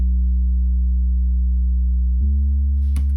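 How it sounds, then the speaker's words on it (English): Long sustained sub bass synth from a song production, a deep steady low tone held for about two seconds before shifting to a new note, alone with no talk. "long subby bass."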